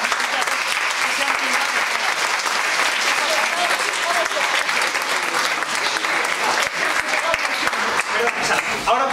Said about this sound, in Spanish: Solo pediría, sí, un aplauso para todos estos compañeros vuestros.